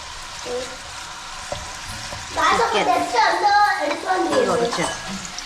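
Small chicken pieces fry in a pan for a homemade pizza, a steady sizzle with stirring scrapes under a person talking nearby.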